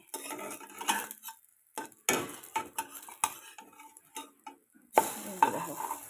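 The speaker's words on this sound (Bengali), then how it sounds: "ননস্টিকের কড়াইতে ভাজতেই সুবিধা হয় দুটা ব্রেড একবারে দেওয়া যায়" Bread frying two slices at a time in a nonstick pan, with close clinks and scrapes of a utensil turning and stirring, soft sizzle between the clatter, in short irregular bursts with quiet gaps.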